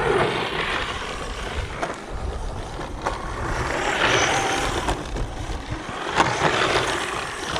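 A Subotech BG1525 hobby-grade RC car with a small 380/390 motor drives through wet long and short grass, its steady motor whine and whir mixed with rustling and brush noise, fairly close and continuous throughout.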